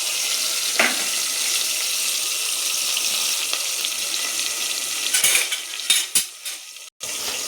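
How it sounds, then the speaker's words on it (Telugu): Chopped onions and green chillies sizzle in hot oil with a steady frying hiss, while a few utensil clinks and scrapes come near the end. "హీట్ అయిన ఆయిల్లో ఈ ఆనియన్ని, పచ్చిమిర్చిని కట్ చేసి పెట్టుకున్న వాటిని దీనిలో వేసుకోవాలండి."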